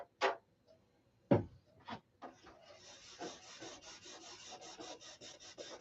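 A couple of sharp taps and scrapes, then rhythmic back-and-forth hand sanding strokes on a model stunt airplane, close and fairly quiet.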